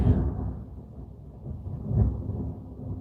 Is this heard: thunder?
yes